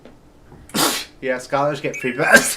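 A single sharp sneeze bursts out near the start of a casual meeting, followed by people talking.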